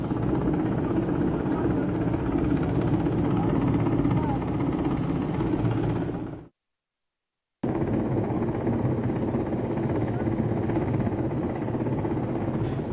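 An Air Force rescue helicopter hovers at the Trikut ropeway in Deoghar, its steady, loud rotor thrum and engine whine continuous and close, broken by a brief silent gap before resuming.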